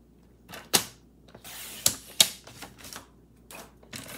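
Designer series paper being cut for a fold card, a series of sharp, close mechanical clicks and scraping slides from a trimmer blade, irregularly spaced over about four seconds, with no talking.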